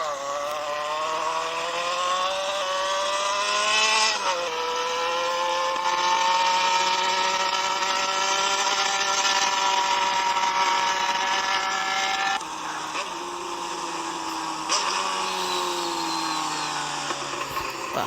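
A newly bought motorcycle, a rider's first, runs steadily while being ridden, its engine droning loud and continuous with slight shifts in pitch as the throttle changes.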